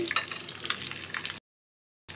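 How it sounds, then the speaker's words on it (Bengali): Whole bay leaves and cinnamon hit hot oil after shrimp has been fried, giving a close crackling sizzle for over a second before cutting to silence, then resuming briefly. "এবার আমি ফোড়নে দিয়ে দিব গোটা তেজপাতা, দারচিনি"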